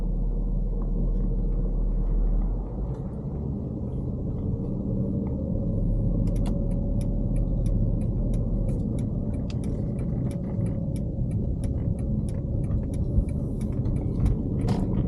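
Interior cabin rumble from a rebuilt Mercedes-Benz CLS 550 AMG being driven on the road, a steady low engine and road drone throughout with faint clicking and rattles above it, no speech.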